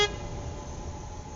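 A single sharp car horn blast at the very start, then a steady low rumble of traffic or engine noise continuing after it.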